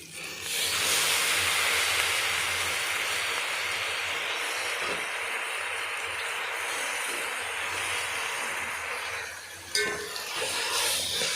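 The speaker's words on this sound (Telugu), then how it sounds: "ఇదండి ఇప్పుడు కడిగి పెట్టుకున్న గోంగూర వేసుకుందాం." Washed gongura leaves hit a hot pan and fry with a loud, sustained hissing sizzle that holds steady, then eases, followed by a brief clatter of a utensil near the end.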